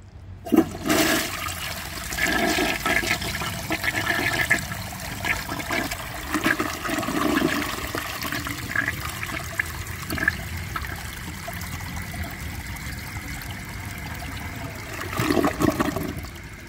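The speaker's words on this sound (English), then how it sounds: "Just like the Glacier Bay, it double flushed." A Delta Corrente toilet with an overfilled tank double flushes: a loud rushing flush starts at once, churns and trickles through the middle, then a second surge of water swells near the end.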